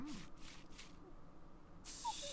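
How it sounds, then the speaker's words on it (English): Three short, quick hissing spritzes of parasite killer spray in The Sims 4, then a longer spray burst after a pause, with soft game chimes underneath. "Parasite killer spray"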